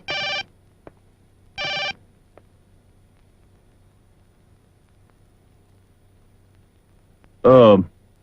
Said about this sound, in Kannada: ಇಲ್ಲದೆ ಇದ್ರೆ ಫೋನ್ ಹೊಡ್ಕೋತಾನೆ ಇರುತ್ತೆ